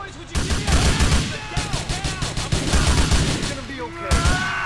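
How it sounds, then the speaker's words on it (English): Dense automatic gunfire rattles in bursts during a GTA IV shootout. It is loud and close, with brief gaps between volleys. "Meter a bala nesses guardinhas."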